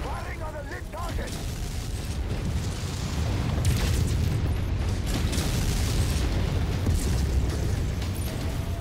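Artillery strike explosions rumble from a mech battle in MechWarrior 5: Mercenaries, a dense and sustained low booming roar that swells after the first second and continues loud and heavy throughout.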